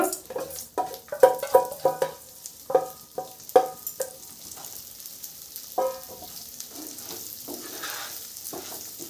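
Rice for basanti pulao fries in ghee with a ground paste of garam masala, turmeric, green chili and ginger, marked by a burst of clattering spoon stirs and clinks over a soft sizzle that settles into quieter frying.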